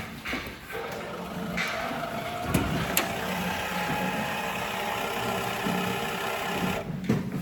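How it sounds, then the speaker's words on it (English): A cattle feeder machine runs steadily with a droning mechanical hum and rattle, making strange noises, punctuated by a few sharp clicks and knocks, fairly close and continuous throughout. "This feeder is making the strangest of noises"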